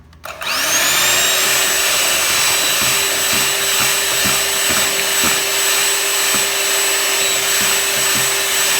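An electric mixer whirs steadily as it beats carrot cake batter with an added egg, a loud close motor drone with a high whine and faint rhythmic knocks from the beaters against the bowl.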